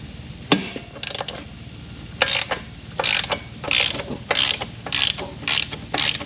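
A ratchet works a 36mm bolt loose on a rear wheel during a tire change, giving one sharp clicking burst followed by a string of short, rapid ratcheting bursts at close range.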